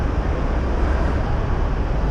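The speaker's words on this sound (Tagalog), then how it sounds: "maingay yung mga bus" Dense roadway noise from buses in heavy traffic near Cubao, a loud, continuous rumbling wash without distinct events.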